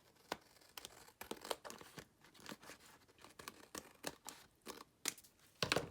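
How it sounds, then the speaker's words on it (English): Woven paper pieces are snipped apart with scissors in a quiet room, a string of short, crisp cuts and crinkles that come close and soft, at an irregular pace with brief pauses between them. "you can cut this apart just by going between and cutting in that tiny little space that you left between the pieces"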